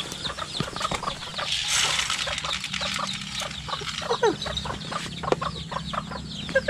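Chickens cluck steadily around a rural home, a busy overlapping stream of short clucks and calls with occasional wing flaps, fairly close and lively throughout.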